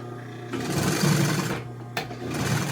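Sewing machine stitching car interior upholstery for a 1955 Chevy two-door post, a fast continuous mechanical whir running at close range with a short pause before it resumes.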